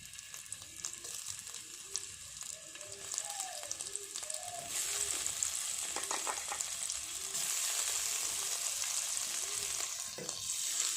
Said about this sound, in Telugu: ఆయిల్ వేడెక్కాక ఇలా కలిపి పెట్టుకున్న పన్నీర్ ముక్కలను కొంచెం ద్వారగా వేయించుకోవాలి